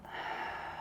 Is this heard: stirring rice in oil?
no